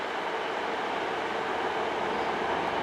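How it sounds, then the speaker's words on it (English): East Midlands Class 222 Meridian diesel unit arriving at Chesterfield station on a London St Pancras to Sheffield service, a steady, loud broadband rumble and hiss holding constant throughout with no voices. "incoming now is an East Midlands train Class 222 Meridian to Sheffield from London St Pancras"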